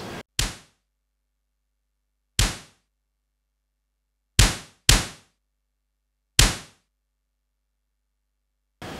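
Snare drum sample for blending into metal drums, struck alone as sharp, isolated hits with quick decays, about five spaced at uneven intervals with silence between.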